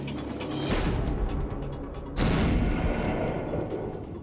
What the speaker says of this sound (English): This is an amazing cannon. It packs a lot of punch for its size.